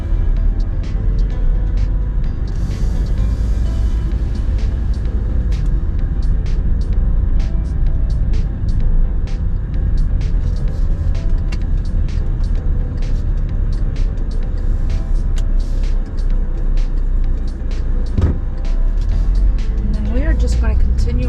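A car driving along Shore Drive through an Oldsmar, Florida waterfront neighborhood, with a steady, loud road and engine rumble that continues throughout, plus frequent small clicks and bumps.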